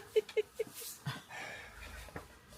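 Small puppy panting in quick short bursts with light shuffling as she moves off to her sleeping spot, close and faint in a quiet room.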